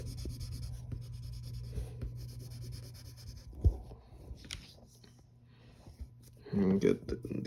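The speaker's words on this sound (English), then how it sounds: "And remember to use the side of your pencil." Pencil shading on paper using the side of the lead, a soft steady scratchy rubbing close up, with a voice speaking over part of it.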